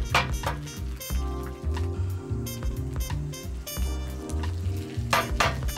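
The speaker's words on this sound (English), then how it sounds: "take a little bit of a tester to see if we've got some frying going" Steady sizzling of egg-battered green tomatoes frying in hot olive oil, with intermittent scraping and clinking of a utensil in the pan.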